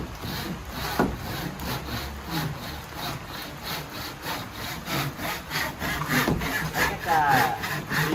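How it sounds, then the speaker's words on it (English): Hand saw cutting wood during framing for a sliding glass door entrance, with rhythmic rasping back-and-forth strokes at a steady pace, close and clear, no talking. "And now we're going to let Hizami finish up his sawing."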